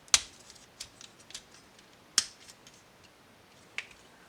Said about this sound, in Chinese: 侧面这里的扣子再夹上